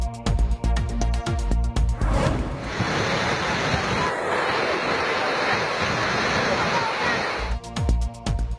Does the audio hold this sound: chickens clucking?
no